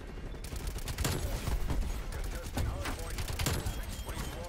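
EM2 assault rifle fire in Call of Duty Cold War comes as rapid, close bursts of gunshots. The sharp cracks arrive in quick clusters over game ambience, and other game noise mixes in.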